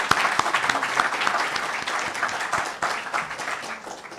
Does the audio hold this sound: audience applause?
yes